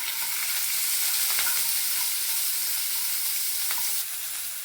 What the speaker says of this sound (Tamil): வெங்காயம் வதக்கலாங்க. 1/4 கிலோ சின்ன வெங்காயம் எடுத்துருக்கேன்